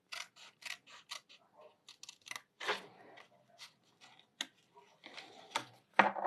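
Scissors snip diagonally through paper for a pop-up card, a run of short, quiet, crisp cuts in an uneven rhythm, close to the ear.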